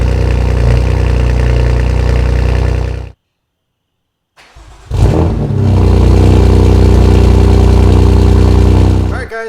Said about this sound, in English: now we should be able to start the car with the valves totally open